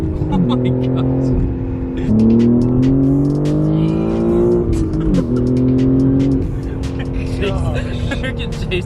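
A car spins donuts in a lot with loud, sustained tire squeal and a revving engine, the screech rising and falling in long sweeps over about nine seconds while passengers talk and react inside.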